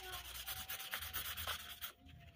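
Sandpaper rubbed by hand over a Mio Soul i 115 F.I. scooter cylinder block, a quick steady run of rasping back-and-forth strokes, close and fairly loud, stopping near the end.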